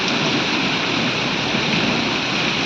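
Heavy rain, mixed with hail, pours down steadily over farm fields in a dense, unbroken roar that stays loud and even throughout, with no voices.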